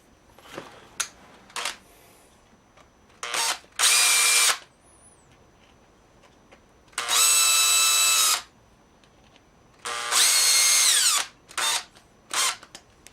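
Power drill driving screws into a Kydex drop bracket for a knife sheath, three short loud whirring bursts close by, separated by quiet handling clicks and taps.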